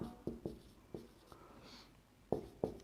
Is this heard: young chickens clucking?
no